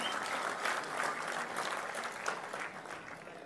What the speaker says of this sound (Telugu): గట్టిగా చప్పట్లు కొట్టి అందరూ ఈ స్థాయికి రావాలని కోరుకుందాం.